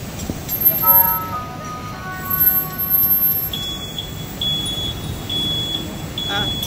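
Lion electric school bus emitting its low-speed pedestrian warning sound, a thin steady tone that repeats in short evenly spaced beeps, moderately loud, over crowd chatter and people talking nearby at an outdoor EV festival.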